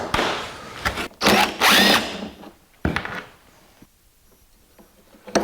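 Power drill working loose a through-bolted bracket on a 1982 Jeep CJ7 heater box, several short loud whirring bursts with pauses between, close by, with no talk.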